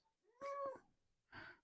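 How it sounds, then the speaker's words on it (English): A pet cat meows twice, a short tonal call followed by a second rougher one after a pause, close by and fairly quiet, with no talk over it. "that was my kitty cat"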